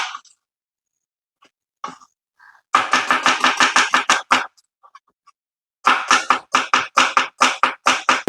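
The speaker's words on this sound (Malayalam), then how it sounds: "സവാള എല്ലാം കട്ട് ചെയ്ത് വളരെ കനം കുറച്ച് എടുത്തിട്ടുണ്ട്" Rapid rhythmic knife strokes thinly slicing onions on a board for ulli vada, two quick bursts of chopping separated by a short pause, close and crisp.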